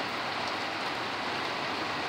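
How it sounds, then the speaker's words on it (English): Rain falls steadily outdoors in Arizona, an even, close hiss of drops with no pauses and no voices. "A lot of rain out here."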